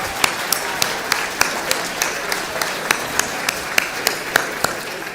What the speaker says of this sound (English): Please can we have a round of applause for our wonderful service staff